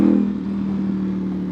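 Engine of a modded 2025 Ducati Panigale V4 with its check engine light on, running steadily with a strong low hum and a slight rumbling idle texture, close and continuous throughout.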